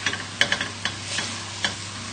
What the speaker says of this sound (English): just sort of stirring it around and scraping the bottom